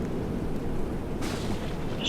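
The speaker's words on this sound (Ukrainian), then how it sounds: "там блискавка." Thunder from a lightning strike in the video game Dead Rails, a continuous deep, loud rumble that swells into a harsher crackling burst partway through, with no talking.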